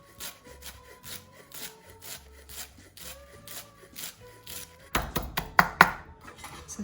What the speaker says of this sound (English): Also going to get a handful of flat leaf parsley and then just finely chop it.